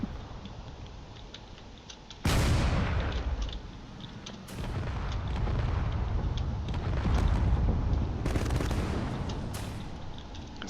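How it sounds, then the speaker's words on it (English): Heavy cannon fire booms from a corvette and other ships in a space battle in a drone combat video game, with loud, sustained, overlapping bursts and explosions that surge repeatedly. "there are plenty of cannon shots moving in over here"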